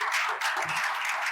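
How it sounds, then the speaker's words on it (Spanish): A conference audience gives a short burst of applause, many hands clapping at moderate volume for just over a second. "Así que un aplauso."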